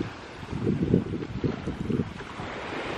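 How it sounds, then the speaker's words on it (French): Ocean waves wash onto a beach near Porto-Vecchio, Corsica, a steady close roar of surf with repeated swells and wind buffeting the microphone, with no voices. "j'espère que vous m'entendez avec les vagues"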